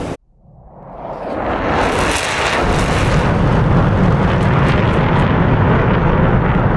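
An F-15 Streak Eagle jet roars at supersonic speed in the DCS flight simulator, building from a sudden cut into a loud, sustained broadband rush that swells within two seconds and holds steady.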